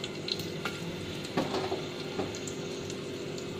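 Whole onions fry in hot oil with garam masala, giving a steady moderate sizzle with a few sharper crackles and spatters and nobody talking.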